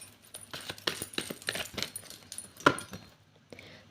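A deck of tarot cards being shuffled by hand, with quick soft riffling flicks and taps, close and quiet, followed by a brief pause.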